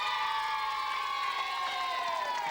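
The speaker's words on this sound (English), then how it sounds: "Give her a round of applause." Studio audience on a 1996 ITV game show breaking into sustained applause and cheering, a dense, steady wash of clapping and whoops throughout with no voices standing out.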